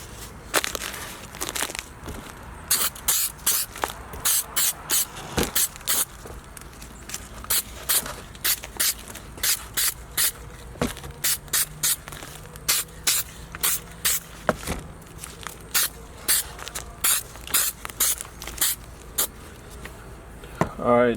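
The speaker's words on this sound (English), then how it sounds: "Now I'm just gonna simply just spray my acetone all over." Acetone from a spray bottle misted over a custom sneaker, a long run of sharp, hissing bursts in quick, uneven succession, close and loud with brief gaps between pumps.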